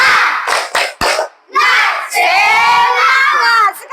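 A class of Indonesian children claps a few sharp beats in a rhythmic pattern, then shouts together loudly in unison, voices ringing close in the room.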